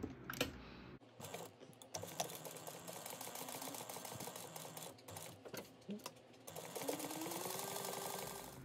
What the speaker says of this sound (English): we're going to top stitch 3 sides